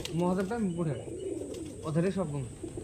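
Pigeons coo close by in two soft, throaty bursts with a pause between, their rolling calls clear against faint background hum.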